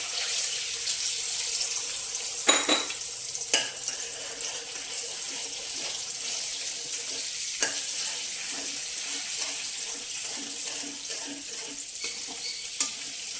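Okra and eggs frying in a pan for an Andhra-style curry, a soft continuous sizzle close by with a few sharp clinks and stirring scrapes, no talk.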